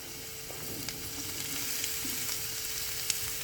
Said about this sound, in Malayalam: ഒന്ന് വഴറ്റിയ ശേഷം നമുക്ക് അരിഞ്ഞു വച്ചിരിക്കുന്ന ഇല ഇതിലേക്ക് ചേർക്കാം